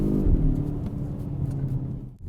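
A Stinger's engine pulls hard under acceleration, a loud, close, low growl with rising revs that eases off near the end.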